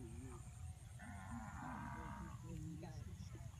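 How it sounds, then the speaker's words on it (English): A cow moos in a long, low, drawn-out call, moderately close, over a steady background of ambient noise, in rural Cambodia. "Oh, cow. Where are you? Who's making that noise?"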